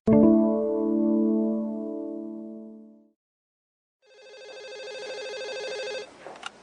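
A telephone rings twice in electronic tones, the first ring lower-pitched, then a pause and a higher, brighter ring ending in a click.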